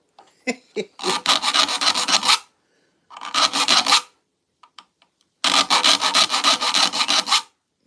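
A hand file rasps across saw teeth in three bursts of rhythmic back-and-forth strokes, sharp and gritty up close, with a few light taps in the silent gaps between them.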